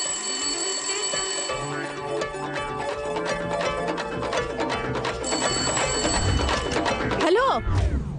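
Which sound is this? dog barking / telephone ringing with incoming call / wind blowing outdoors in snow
telephone ringing with incoming call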